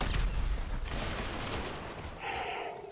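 Musket volley fired in a Lucky Luke video game: a loud, rough burst of gunfire up front that rumbles and fades into noisy decay, then a sharp mechanical clatter near the end.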